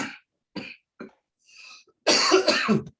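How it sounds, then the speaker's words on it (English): Several short, sharp coughs spaced apart, followed by a longer, harsher burst of coughing and throat clearing, close and loud. "My cough is very bad."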